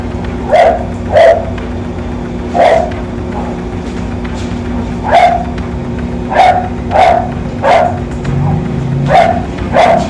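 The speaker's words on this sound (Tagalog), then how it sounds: "Ingay naman ng aso nito." Several dogs bark in short, loud bursts, roughly a dozen yips and bow-wows spaced irregularly over a steady low background hum.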